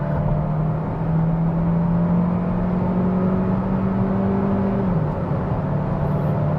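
A new Kia Seltos accelerates from a standstill in sport mode, heard from inside the cabin as a steady engine hum rising in pitch, with a brief gear-change dip near the end and no talking.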